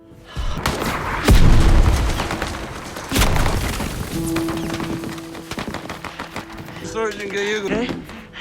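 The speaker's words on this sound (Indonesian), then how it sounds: "Larson bertugas untuk memberi tembakan perlindungan" Covering fire in an Afghanistan valley battle scene from a war film: heavy booming shots and sharp cracks ring out, one loud blast near the start, with a steady tone and shouting voices later under a narrator talking.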